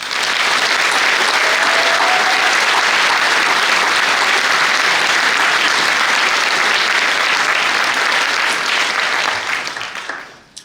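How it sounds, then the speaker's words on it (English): Sustained audience applause at a graduation ceremony, a loud, dense wash of clapping from a large crowd that holds steady for about nine seconds before tapering off. "Please join me in applauding them."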